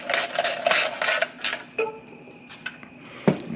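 A wrench tightening the starter bolts on a go-kart engine, producing quick rasping ratchet clicks in a rapid series up close, followed by a few sparser metallic ticks and a final sharp clink.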